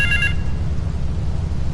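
A payphone in South Belleville Park rings in Grand Theft Auto III, a short electronic ring burst at the start over a low game rumble that carries on afterward.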